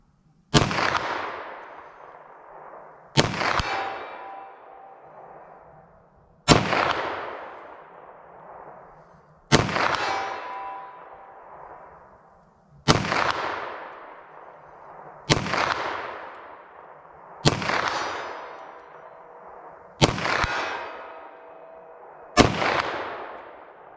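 Eight sharp 9mm +P+ pistol shots fired at a target, spaced roughly three seconds apart, each a loud close crack followed by a ringing decay, with no talking.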